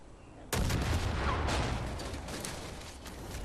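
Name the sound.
explosion in the video game Far Cry 5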